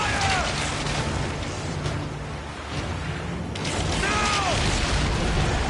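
Galley cannons boom and explosions burst during a naval battle in Assassin's Creed Origins, heavy repeated blasts over a constant roar of battle noise with shouted commands and brief whooshing sounds.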